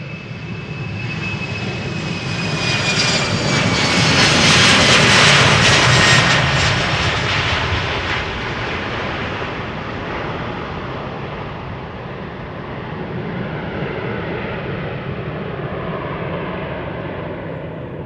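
A 13-year-old KLM Embraer 190 jet at Amsterdam Schiphol Airport roars loudly as it passes, its engine noise swelling to a peak midway before easing into a steady, lingering rumble.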